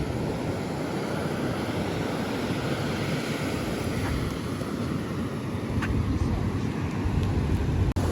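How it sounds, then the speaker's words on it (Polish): Surf rolls in steadily at Maroubra beach in Sydney, a continuous broad roar of breaking waves mixed with gusty wind buffeting the microphone throughout. "Tak się prezentuje w drugą stronę plaża."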